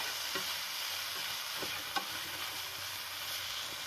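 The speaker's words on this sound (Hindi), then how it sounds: "तो इसमें अपनी सॉसेज वगैरह भी डाल देंगे। ठीक है, अभी तो मिक्स कर लेते हैं।" Sausage and sauce stirred in a pan for chicken bun filling, with a steady quiet sizzle and a few soft scraping clicks of the spoon throughout, no voices.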